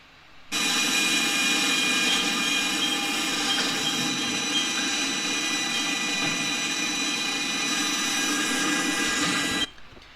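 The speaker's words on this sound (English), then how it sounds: "they use a relatively specialized fixture here with an impact riveting assembly" An impact riveting assembly on a specialized fixture sets rivet pins in a factory making Stgw. 57 rifle parts, giving a loud, continuous, dense mechanical clatter that runs steadily for about nine seconds and then stops abruptly.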